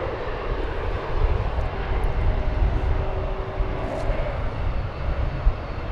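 Alaska Airlines jet taking off from a runway at DFW Airport, a steady, loud engine roar with low rumble that holds throughout, no talking over it.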